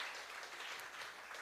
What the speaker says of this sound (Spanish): Denle un fuerte aplauso al que vive y al que reina por los siglos de los siglos.